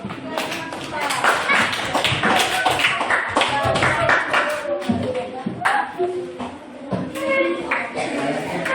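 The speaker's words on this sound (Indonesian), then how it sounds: "Beri tepuk tangan untuk" Classroom clapping from a group of children, rhythmic and fairly close, mixed with young voices chattering and calling out over the claps throughout.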